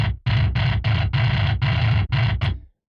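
Unfiltered, aggressive distorted guitar tone from a metalcore mix, heard as loud, dense, chugging chords in several tight bursts separated by abrupt short stops, with no voices.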